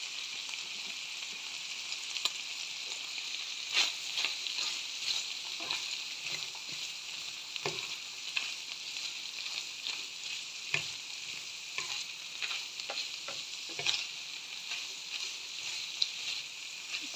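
Carrot and apple stir-fried in a pan, a soft continuous sizzle broken by irregular scraping and clicking of the spatula as the food is stirred, fairly quiet and close with no talking.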